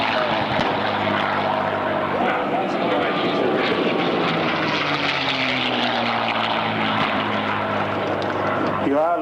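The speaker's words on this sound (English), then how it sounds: "And of course to keep the aircraft flying." Vintage Commonwealth Aircraft Corporation propeller plane, about 50 years old and Australian-built, flying past at Avalon Airshow 2001, a loud steady engine drone that shifts in pitch as it passes, with an announcer's voice over the PA.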